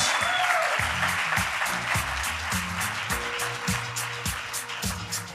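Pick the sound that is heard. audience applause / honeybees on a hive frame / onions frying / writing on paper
audience applause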